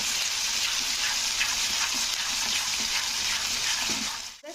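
Ginger, green chili and raisin paste fries in a pan for a katla kalia, a continuous close hiss with soft stirring scrapes that briefly cuts off near the end, no voices.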